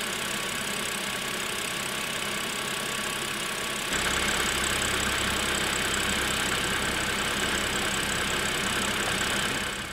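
A direct-injection car engine idles steadily, with a rapid ticking injector clatter over a constant hum that grows slightly louder and deeper partway through.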